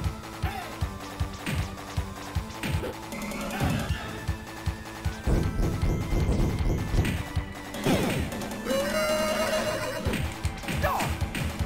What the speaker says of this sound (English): Is that the horse?